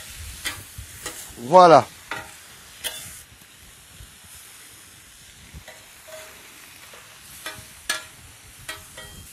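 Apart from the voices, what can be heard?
deglazing a hot pan with a little white vinegar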